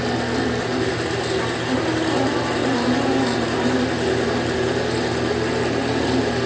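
A computerized quilting sewing machine runs steadily as it travels back to its starting point, giving a constant mechanical hum and whir with fine rapid vibration, fairly close and unbroken, with no talking.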